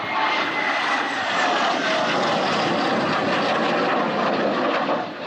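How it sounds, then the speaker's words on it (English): A 1950s Hawker Hunter military jet taking off from its Essex base roars steadily and loudly throughout, a dense, sustained engine rush with no talking. "This is the last time the Hawker Hunter took off from its Essex base to fly to Shoreham."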